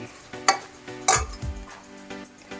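A spoon scrapes and clinks against a pan while dried prawns fry with chili powder, a few sharp metallic knocks over a soft sizzle.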